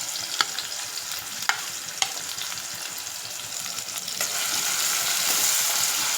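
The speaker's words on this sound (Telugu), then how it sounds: "కొంచెం ఫ్రై అవ్వాలి" Onion, tomato and green chilli fry in a pan for street-style peas chaat, giving a continuous close sizzle broken by a few sharp stirring clicks, and the hiss swells louder near the end.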